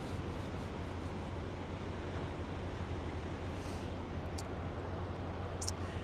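Ocean waves coming in as a steady, broad wash of surf, distant and soft, with a few faint high clicks and no voices.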